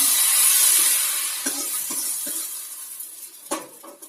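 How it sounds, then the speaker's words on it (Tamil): Tempering poured into vegetable sambar simmering in a pot, with a hissing sizzle at the start that fades, followed by a few light clinks of a metal spoon or ladle against the pot. "இப்போ தாளசம் ஊற்றி போகிறோம்"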